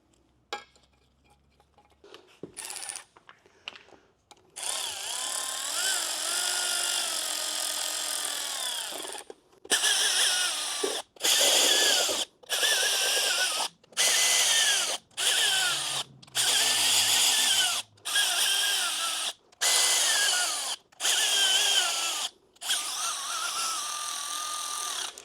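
A power tool drives bolts into a Camaro engine block, starting with a few short taps, then a long steady whir, then a rhythmic series of roughly ten short bursts with brief silences between them, close and loud.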